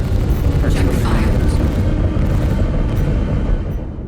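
Spaceship weapons fire and explosions in Star Citizen during a large multiplayer space battle, heard as a loud, dense, continuous rumble of booms that eases off toward the end.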